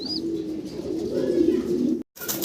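A large, full-grown pigeon coos close by, a low, steady throaty murmur lasting about two seconds, with a brief faint chirp at the start and a short break near the end.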